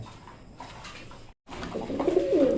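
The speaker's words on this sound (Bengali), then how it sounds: "এখানে দেখতে পাচ্ছেন একজোড়া হলুদ লাহুরি আছে মার্শাল্লাহ খুবই সুন্দর কোয়ালিটি" A pair of yellow Lahori pigeons gives soft, throaty cooing at close range, rising clearly over quiet background noise toward the end.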